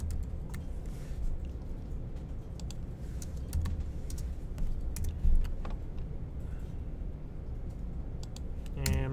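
A computer keyboard clatters with irregular bursts of typing keystrokes during programming, close and steady over a constant low background hum.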